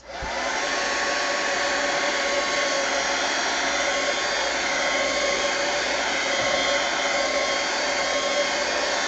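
Heat gun drying paint on an art journal page, a loud steady blowing roar that runs unbroken from start to finish with no voices over it.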